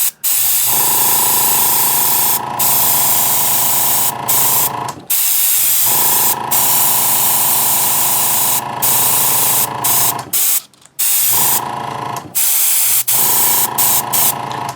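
Spray paint going onto a starship replica model in repeated long bursts of close, loud hiss, each lasting several seconds and separated by short pauses, with no talking.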